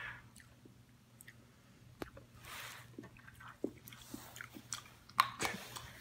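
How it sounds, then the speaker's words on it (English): Fun Dip candy being eaten up close, with quiet wet chewing, small crunches and squishy bites in an irregular rhythm against a faint steady hum. "He eats it like how he's supposed to eat it."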